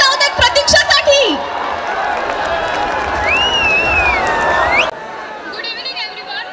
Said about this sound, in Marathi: जोरदार टाळ्या होऊन जाऊ देत प्रतीक्षासाठी.